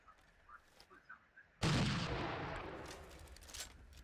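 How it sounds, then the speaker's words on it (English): A gunshot in the video game Skyrim cracks out suddenly after quiet, a single loud broadband blast whose echo decays slowly over a couple of seconds. "I'll wait for that gunshot to go off and see how loud that is"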